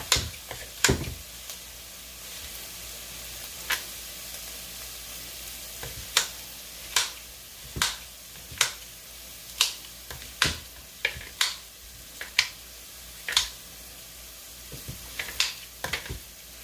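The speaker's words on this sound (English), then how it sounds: "Finish chopping up my kale." Sharp intermittent knife taps on a cutting board chopping kale, irregular chops scattered over a low background sizzle.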